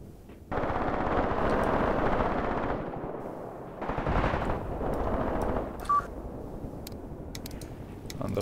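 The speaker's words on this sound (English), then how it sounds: "What's that? Maxim gun." Maxim machine gun fire in the WWII tank battle game Graviteam Tactics: two loud, sustained bursts of rapid shots, the first about two seconds long and the second shorter, with fainter crackle between and after.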